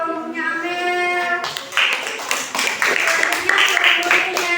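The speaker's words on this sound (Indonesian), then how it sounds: "tepuk tangan untuk kelompoknya Amel." A class of students claps for a student group in a university classroom, scattered hand claps that start after a voice is heard talking, continuing unevenly and fairly close.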